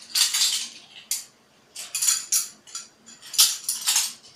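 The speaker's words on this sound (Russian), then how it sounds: "У меня вот такие вот мерные ложечки." Metal measuring spoons clinking and jangling against each other while baking soda is measured out for a homemade cheese recipe, several bright, close clusters of light metallic clatter separated by short quiet gaps.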